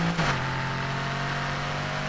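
A Mercedes-engined Aston Martin DB11 Volante in Need for Speed Heat revs briefly, then settles into a steady, droning engine hum held at constant pitch, close and continuous with no talking.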